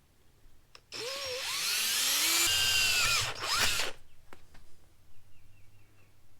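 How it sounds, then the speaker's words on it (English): A power drill whines loudly for about three seconds, drilling a pilot hole while repairing a Harbor Freight creeper, pitch rising and dipping as the bit bites in, then cuts off leaving faint clicks. "And then I'm gonna drill a pilot hole, making sure the wheel's not in the way."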